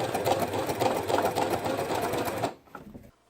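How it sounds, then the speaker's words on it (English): A sewing machine runs a fast, steady stitching whir, top stitching along a zipper on a pouch, close and continuous for about two and a half seconds before it stops and a faint click follows. "top stitch as close to the zipper as you can using a seam allowance of 1/8 of an inch"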